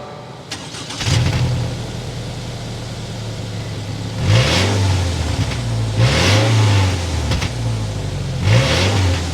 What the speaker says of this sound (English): We need to go side start up so you can hear that exhaust note